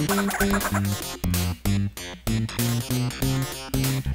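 Chickens in the ToeJam & Earl video game make loud, synthesized clucking calls. Short tonal bursts repeat in a choppy rhythm over game music, with no talking.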